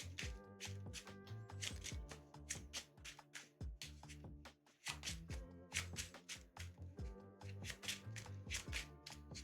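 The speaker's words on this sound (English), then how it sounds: "we shuffle this back up" A deck of cards for the Lord of the Rings living card game being shuffled on a table, crisp riffling bursts in quick rhythmic pulses with a brief pause midway, close and fairly quiet, no talking.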